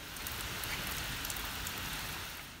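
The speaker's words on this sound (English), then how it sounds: "As you can see, this downpour doesn't faze it at all" Heavy rain pours down in the north of Scotland over a lawn where a Husqvarna Automower robotic mower is working, a dense, steady hiss of close drops with no voices.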